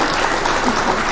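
A canned applause sound effect is played during a live local news show, a brief, loud wash of clapping with a hint of voices underneath.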